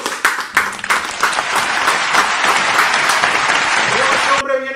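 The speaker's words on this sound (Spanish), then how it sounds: "Así que esto merece, gente, otro aplauso, señores." Loud, dense audience applause fills the room steadily at an interview with a salsa urbana artist, with a voice speaking over the clapping.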